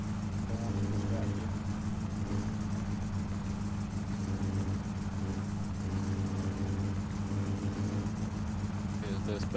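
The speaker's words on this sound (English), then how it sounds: "the engine is too loud for me to hear you" The car engine in the video game My Summer Car hums at a steady low idle, loud and constant throughout, with a faint voice talking in the background.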